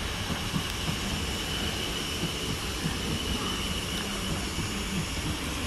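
A steady, continuous rumble of a Class 455 electric train at Clapham Junction station, with rail noise running throughout and a faint high whine on top.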